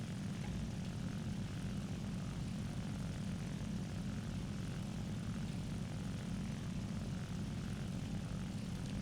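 A propeller fighter plane's piston engine in the War Thunder combat flight game, a steady, loud droning roar that holds constant throughout with no voices.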